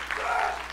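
An audience at a French-language speaking contest breaks into applause, a dense steady clatter of clapping from a crowd, moderately loud throughout.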